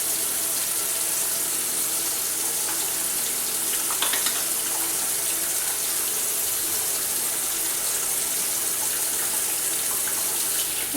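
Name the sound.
washing hands under running tap water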